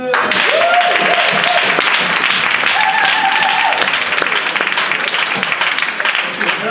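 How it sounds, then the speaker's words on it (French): An audience claps for a child's correct answer at a church gathering, a warm continuous round of applause with brief voices and a sustained tone rising over it. "Est-ce qu'on peut l'applaudir?"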